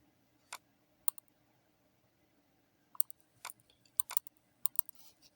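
Scattered keystrokes on a computer keyboard, irregular short clicks and small clusters of taps spread across several seconds, fairly faint in a quiet room while text is typed into an MS Word document.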